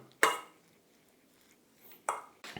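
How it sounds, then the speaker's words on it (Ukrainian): A spoon clinks and scrapes against a bowl while chicken spread with dried dill is mixed, with a few sharp metallic knocks separated by quiet scraping. "Все далі тепер просто це все перемішуємо."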